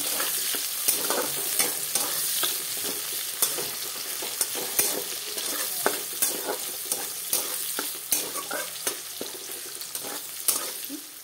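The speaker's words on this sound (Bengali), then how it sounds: "এই তেলেতে আমি গোটা গরম মশলা দিয়ে দিলাম" Whole garam masala spices frying in hot oil, a continuous close sizzle broken by regular stirring scrapes and taps.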